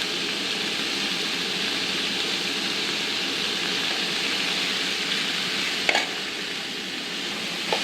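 Green chillies, curry leaves, coriander and ginger frying in a pan, a steady dense sizzle throughout with a brief clatter near the end.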